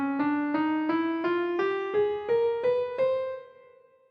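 A quick run of about ten plucked notes climbs steadily upward in an even rhythm, playing the Raga Sindhi Bhairavi scale, with the last note fading out.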